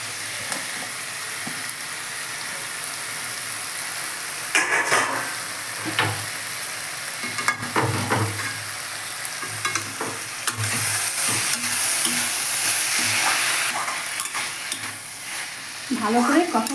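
Boiled taro flowers are stirred and fried in a pan, giving a steady close sizzle broken by scraping spatula strokes throughout, with no voices.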